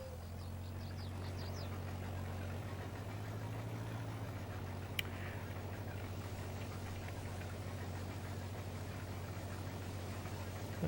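A combine harvester engine runs steadily in Farming Simulator 22, a low constant drone with a brief click midway and no talk over it.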